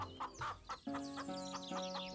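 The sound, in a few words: chickens clucking at a chicken shop, animated story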